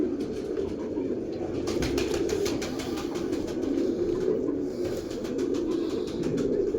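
A breeder pair of pigeons coos close by, low throaty warbling calls repeating over soft rustling and a few flutters, with no voices.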